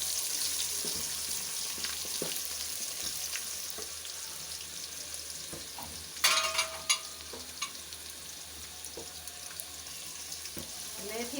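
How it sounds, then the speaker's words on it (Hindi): Onions browning in oil in a pan with fenugreek and nigella seeds for aloo katli salan: a low, steady frying hiss with a burst of stirring scrapes partway through, close and fairly quiet, with no talk. "अब हम प्याज ब्राउन करेंगे"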